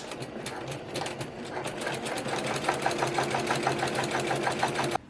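Close, loud sewing machine running steadily as it stitches the other side of a quilted shoulder bag's lining, its rapid rhythmic needle clatter continuing for about five seconds before cutting off abruptly.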